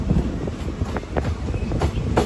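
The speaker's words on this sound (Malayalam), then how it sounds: "പുനലൂർ റെയിൽവേ സ്റ്റേഷനിൽ ഇതാ വണ്ടി എടുത്തിരിക്കുകയാണ്" The Madurai–Guruvayur Express rolls out of Punalur railway station, its wheels clattering with a steady rumbling clickety-clack, loud and close.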